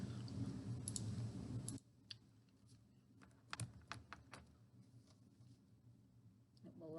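Quick clicky keystrokes on a computer keyboard, typed in irregular bursts at close range, come right after a person speaks, while typing into a group chat in the Zoom app.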